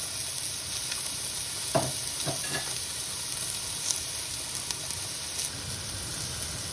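Pork chops fry in a pan with lemon and thyme, giving a steady close sizzle and hiss throughout, broken by a few faint scraping knocks as the meat is moved.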